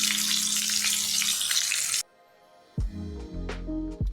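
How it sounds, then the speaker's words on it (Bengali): Boiled potatoes with salt hiss loudly in hot oil for about two seconds, then the sizzle cuts off and a few close knocks and clatters of a pan or utensil follow. "সিদ্ধ করে আলুগুলি দিয়ে একটু লবণ দিয়ে আলুটা ভাজি"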